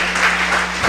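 Brief, loud burst of congregational clapping during a church service, a dense continuous patter that swells slightly at the close.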